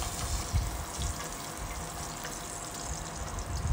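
Onions frying in a pan with ginger and garlic for a goat meat pulao, giving a steady close sizzle with light stirring scrapes throughout and no voices.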